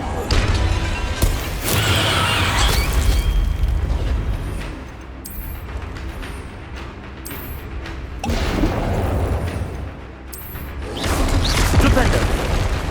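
Repeated Confringo blasting spells from Hogwarts Legacy go off in a series of loud booms and crashes with rumbling between them, amid battle sounds and a voice calling out.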